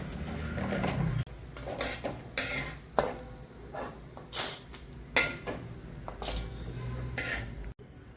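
Sunflower seeds roasting in ghee in a pan, with a steady low sizzle and repeated sharp scrapes and taps of a spoon stirring against the metal, fairly close and with no talking.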